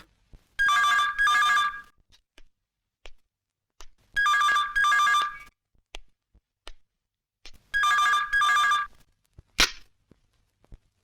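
A telephone bell rings in three double-burst cycles in a Bollywood film scene, loud and close, separated by pauses with a few small clicks and a sharp snap at the end.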